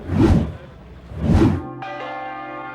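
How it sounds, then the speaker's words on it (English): Bells in Dallas's Thanksgiving Square ring out at one o'clock, two full resonant strikes spaced about a second apart, followed by a lingering metallic hum. "At precisely 1 o'clock, bells ring out in Dallas's Thanksgiving Square"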